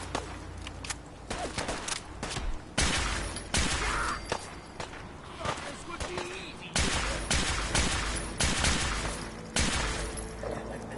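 Gunshots from a single-shot gun in the video game Fallout 4: sharp, loud reports fired one at a time in an irregular rhythm, with someone talking between them.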